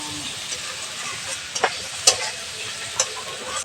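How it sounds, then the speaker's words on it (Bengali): Boiled potatoes and green chillies are stirred in a pan over a soft continuous sizzle, with a few sharp spatula clicks against the metal, close by and with no talking. "এটাকে দিয়েও আমরা ভালো করে নাড়াচাড়া করে নেব।"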